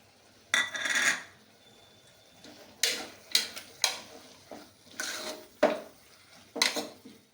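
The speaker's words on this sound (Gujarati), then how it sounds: "આપણે આ ટમેટું નાખશું," Metal spoon clanking and scraping in a cooking pan while tomato is stirred into farali sama khichdi with grated carrot over low heat, a series of sharp separate clinks and scrapes with quiet gaps between them.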